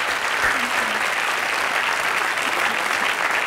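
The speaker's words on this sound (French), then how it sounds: "Bravo. Moi j'applaudis." A live audience applauds after a sung performance on a French television show, steady dense clapping that fills the whole stretch at an even level, with no talk over it.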